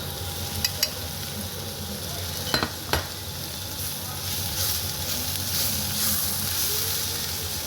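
Spice masala for beef curry sautéed in a pan, a steady soft sizzle with light stirring scrapes and a few sharp utensil clinks early on, close and continuous with no talking.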